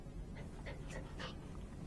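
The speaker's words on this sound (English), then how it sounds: "Unlike my dog, who's anything but chilled right now." A restless dog panting and whimpering, quick breathy pants with a few thin whines, fairly close but soft against a steady background rumble.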